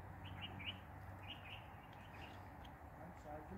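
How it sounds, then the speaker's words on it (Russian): Small birds chirp in a garden, with short high tweets scattered across the clip, moderately distant and fairly faint over a low background rumble. "Птички всякие."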